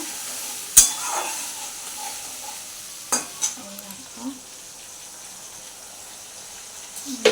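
Potol (pointed gourd) fries in oil with curd as a steady soft sizzle, while a spoon scrapes and clinks against the pan a few times at close range.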